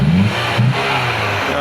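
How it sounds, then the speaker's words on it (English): A 2010 Toyota Camry engine idling after a crankshaft sensor repair, a steady mid-pitched hum with a short rise at the start, heard close up while someone talks over it. "As you can hear, the engine is running."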